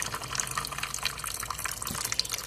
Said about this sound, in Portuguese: você vai colocando e a água vai escorrendo